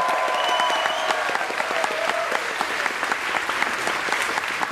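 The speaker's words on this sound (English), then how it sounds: "A very quick applause" Passengers gathered for morning announcements on a JoCo Cruise ship give quick applause for a birthday, a broad wash of many hands clapping steadily, with a brief whistle or cheer near the start.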